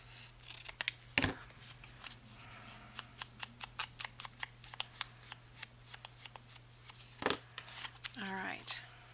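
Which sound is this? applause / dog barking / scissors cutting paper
scissors cutting paper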